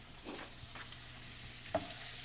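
Vegetables for a supreme pizza bite filling sautéing in a pan, a soft, steady sizzle with faint stirring scrapes and one brief clink near the end, fairly quiet with no talk.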